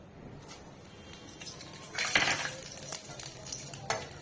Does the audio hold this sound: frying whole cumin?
yes